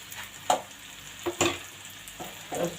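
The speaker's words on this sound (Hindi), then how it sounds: "प्यार प्यार से इनमें चमचा चलाएं ताकि हमारे जो आलू हैं वो टूटे नहीं।" A spoon gently stirs egg and potato curry in a pan, making a few soft scrapes and knocks spaced over a low, quiet simmering hiss, close by with no talking.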